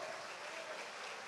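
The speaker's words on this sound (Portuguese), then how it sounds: "Esse aplauso está parecendo que é para o pastor, mas se é para Jesus, ele merece mais" A church congregation applauds during a sermon, a steady, dense wash of clapping that fills the whole moment at an even level, with no voices standing out.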